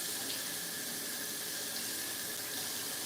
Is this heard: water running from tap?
yes